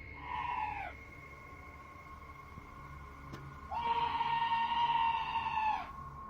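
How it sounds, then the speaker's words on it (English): Outside a home at night, an unseen creature lets out two long, eerie tonal screams, a short one followed after a pause by a longer wavering cry, sounding moderately close over quiet background. "This scream sounds like chills made audible."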